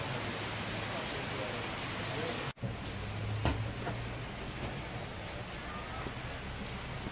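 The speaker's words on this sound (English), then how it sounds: "in pouring down rain probably is not gonna work" Steady pouring rain in Phuket, Thailand, a dense even wash of noise from start to finish with one brief dropout partway through and faint voices underneath.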